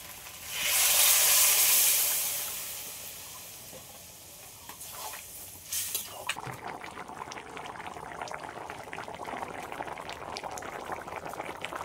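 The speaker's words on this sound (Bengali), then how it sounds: "জল গরম করে রেখেছিলাম, এই জলটা এবার দিয়ে দেবো।" Hot water is poured into a pan of jackfruit curry, giving a loud rushing, bubbling pour over the first few seconds. It gives way to steady simmering and sizzling that carries on to the end with no talking.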